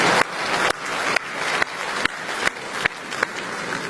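An audience claps steadily and loudly, with the applause dense and sustained throughout and brief gaps at intervals where it seems to restart.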